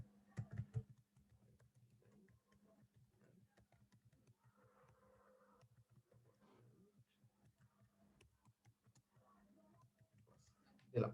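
A post is typed on a computer keyboard: faint, quick clicking keystrokes in an irregular stream over a low hum, with a louder clatter of keys at the start and end, and no clear talking.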